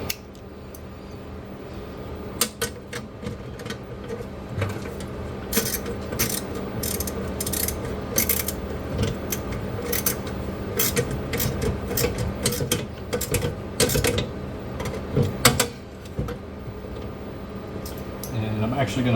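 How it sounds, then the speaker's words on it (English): A socket wrench ratchets as parts on a slot machine are tightened down, producing quick, close clicking strokes in irregular runs over a steady background hum, with a voice talking at times. "let's get the socket wrench out and let's tighten these down"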